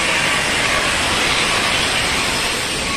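A Metra commuter train stands at a station giving off a loud, continuous, close hiss of escaping air, steady throughout with no pauses.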